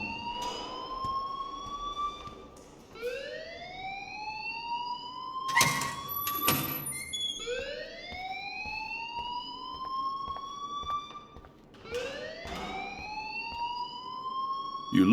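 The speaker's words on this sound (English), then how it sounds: "please turn off that alarm since that's your job" Wailing alarm in the video game Life is Strange, rising siren sweeps repeating every few seconds, loud and steady, with a couple of sharp bursts of noise in between and no talk.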